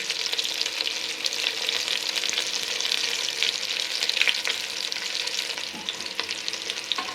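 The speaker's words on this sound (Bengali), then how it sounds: "আর কিছুক্ষণ ভাজতে হবে, তারপর হয়ে যাবে।" Chicken pieces frying in a pan, a constant crackling sizzle at steady loudness throughout, with occasional faint pops and clicks.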